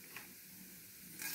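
Cumin seeds dropped into hot cooking oil over a low flame for sambar, giving a faint, steady frying hiss with a small click at the start and a brighter sizzle swelling at the end.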